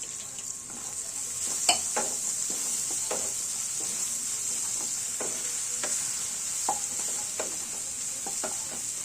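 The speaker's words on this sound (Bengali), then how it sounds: "একটু ভেজে নেব যাতে সবজিগুলো সেদ্ধ হয়ে যায়" Mixed vegetables for vegetable chow mein stir-frying in a pan, with a steady hiss of sizzling and repeated scrapes and clinks of a spatula stirring throughout, no voices.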